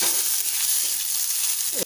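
Cloves, black pepper and chopped garlic frying in hot oil make a loud, close, continuous sizzle that cuts off abruptly near the end.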